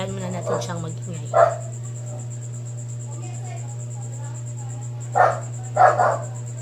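A house dog gives three separate barks, one early and a close pair near the end, with long gaps between them, under a steady low hum and a faint chirping whine.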